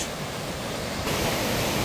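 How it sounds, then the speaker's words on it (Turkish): A mountain stream rushing past tents pitched along its bank on a highland plateau near Uzungöl in Trabzon, a steady, loud broadband roar of water that fills the whole moment, with no voices. "Dere o kadar muhteşem çağlıyor ki bakmaktan kendimi alamıyorum."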